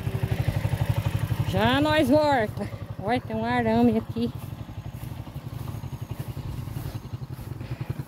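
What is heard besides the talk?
motorcycle riding through the bush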